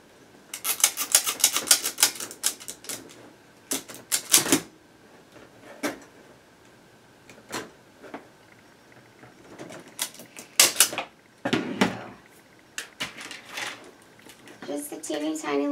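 Plastic zip tie being ratcheted tight on a deco mesh wreath bracket, a run of quick dry clicking bursts that come in several separate pulls, close and fairly crisp, with someone talking in between.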